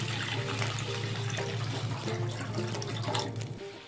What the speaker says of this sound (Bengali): কড়াতে জল দিয়ে দিচ্ছি।